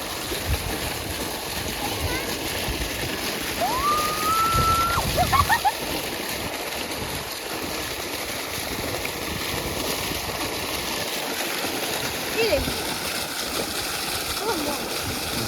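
Cold water pouring and splashing steadily from a well or motor pump outlet, a continuous close wash with a few louder splashes, while people talk over it.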